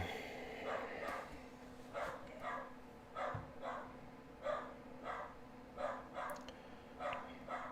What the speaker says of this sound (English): Sorry about the dog. He gets very upset when packages get delivered.